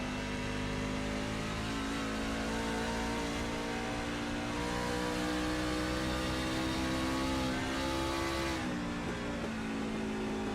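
A race car in the iRacing game drives a lap, its engine droning steadily and loudly at high revs, pitch shifting through gear changes with a sharp drop near the end, no talk over it.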